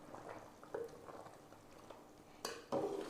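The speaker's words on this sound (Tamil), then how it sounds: "அதையும் சேர்த்துட்டு அப்படியே ஒரு கிளறி விட்டுருவோம்" A spoon stirs stingray fish curry with crushed pepper and garlic in a pot, making soft scraping swirls and a few clear clinks of metal against the pan, quiet and close.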